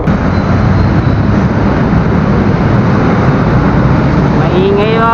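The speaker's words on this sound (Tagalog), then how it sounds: "gawa ng mga andar ng sasakyan maingay ang andar nila nasa likod natin kasi ang ano ang kalsada" Steady loud roar of vehicle engines running along a road close behind, a continuous traffic rumble with no breaks.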